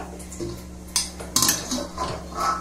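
Metal spoon scraping and clinking against a pan as roasted mawa (milk solids) is pulled out, a few distinct scrapes spaced across a couple of seconds, close and fairly quiet with no talking.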